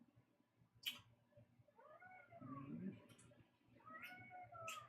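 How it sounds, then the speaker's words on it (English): A house cat named Murph meows repeatedly in a crying tone, several drawn-out calls spaced across the moment, fairly close and moderately loud, with faint room noise in between. "I hear a crying cat"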